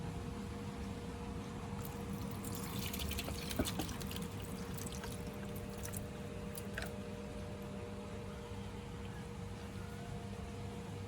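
Liquid draining from steeped dandelion flowers for homemade tea, a steady low wash of pouring and trickling that runs the whole time at moderate level, with a few faint clinks and no one talking.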